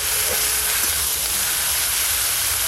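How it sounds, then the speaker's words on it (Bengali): Onion paste hissing in hot oil with whole garam masala spices, a loud, steady and close sizzle that lasts the whole time. "এবার দেব পেঁয়াজ বাটা, পেঁয়াজের জলটা একটু শুকিয়ে গেলেই আদা রসুন বাটা দিয়ে দেবো।"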